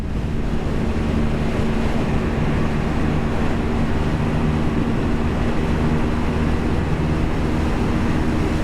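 Honda CL 250 motorcycle cruising downhill in fifth gear, a steady, loud engine drone with low harmonic hum and heavy wind rush throughout, constant and close.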